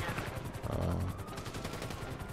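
Video game gunfire: rapid, continuous automatic shots form a dense, loud, steady rattle that fills the whole stretch, with no talk over it.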